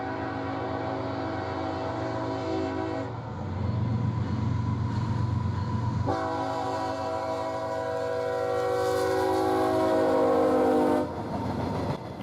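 A CSX heritage unit train, L806, runs northbound past the old depot in Ringgold. It gives a long, loud horn blast in two sustained stretches over a steady rumble of passing cars, close by.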